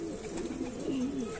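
A black pigeon coos in soft, low, repeated throaty calls, close by and fairly quiet, with no talking.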